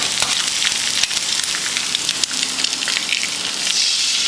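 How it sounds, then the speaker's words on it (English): Eggs frying in a pan, a constant bright crackling sizzle with scattered pops, close and fairly loud throughout, no speech. "I'm gonna let my eggs cook."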